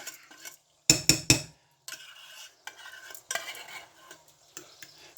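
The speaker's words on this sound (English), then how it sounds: "Give that a good mix." A utensil stirring a tuna and egg mixture in a bowl, close up, with three sharp clinks against the side followed by a run of softer scraping and mixing strokes.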